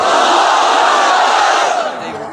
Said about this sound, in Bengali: এত উঁচু আওয়াজে তাকবীর দেব, বলি আল্লাহু আকবার।